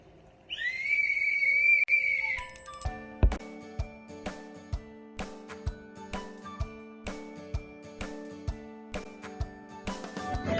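A high, wavering dog training whistle sounds for about two seconds, followed by a series of regular sharp knocks and ringing tones, with no talking.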